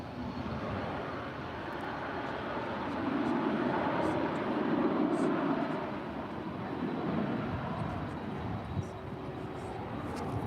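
A UPS Boeing 767-300ER, nine years old, departing DFW airport for Ontario, California; a steady broadband jet engine roar that swells in the middle and stays continuous throughout.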